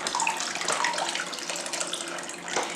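Hot water pouring onto chickpeas in a bowl for hummus, a short, fairly quiet splashing gush that runs continuously.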